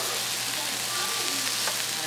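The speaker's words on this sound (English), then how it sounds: "I got my shrimp still cooking." Shrimp frying in a pan at home, a continuous close hiss and sizzle with a few faint crackles, steady throughout with no speech.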